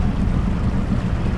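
Johnson 200 hp outboard motor on a boat running steadily, a constant low rumble mixed with wind and water noise, with no talking.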